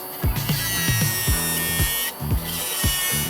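An electric nail drill bores holes into gel nails, pressed in firmly at a raised speed, giving a steady high whine broken by repeated short grinding bursts, close up with no talk.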